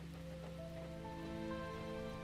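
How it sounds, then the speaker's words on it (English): Cold rain falls steadily, a soft, even hiss of drops with a faint tonal hum underneath, brief and quiet with no voices. "The rain fell as cold as ever."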